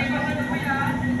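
An LRT light rail train hums and rumbles steadily during a ride, with a constant tonal whine throughout and a voice speaking over it.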